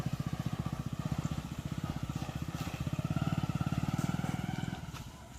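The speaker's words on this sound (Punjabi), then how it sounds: "ਇਸ ਟਾਈਮ ਇਹ ਮੋਟਰਸਾਈਕਲ ਦੇਖੋ ਨਿਕਲੂਗਾ ਚੱਕੜ ਦੇ ਵਿੱਚ ਦੀ" A motorcycle rides slowly through village mud, its engine putting out a steady, rapid low thumping that stays loud and close throughout, then fades near the end, with no one speaking over it.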